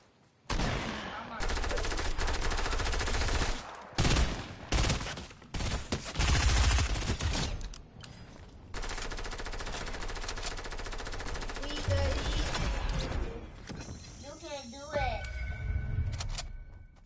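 Video game gunfire crackles in rapid automatic bursts, loud and close, broken by short pauses and mixed with a voice talking over the action.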